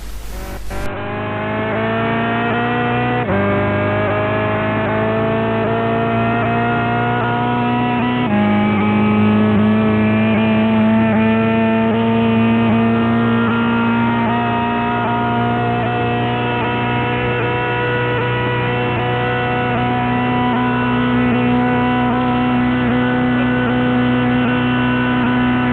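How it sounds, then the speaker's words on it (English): A Chevrolet Corvette engine in Gran Turismo 5 roars steadily along the Nürburgring straight, pulling hard through the gears with a couple of brief shift dips before a long sustained high-rev drone. "A Corvette really sounds like that."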